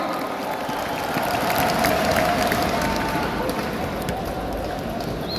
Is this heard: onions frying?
no